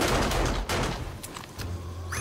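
Reaction rifle fire in the 7 Days to Die video game during a day 70 horde night, a dense, loud stream of rapid shots with a brief gap midway, then renewed firing.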